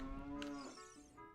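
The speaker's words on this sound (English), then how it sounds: "we are greeted with a cow" A single cow moos in the game Ocarina of Time, one drawn-out, close and fairly loud low call held on a steady tone and then fading away.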